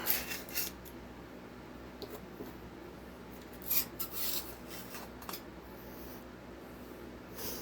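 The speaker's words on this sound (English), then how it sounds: "In your bar slot and get all the gunk out." Gunk being scraped out of a chainsaw bar's groove with a thin tool, giving faint, intermittent raspy scratches and rubs with short pauses between strokes, close up and quiet.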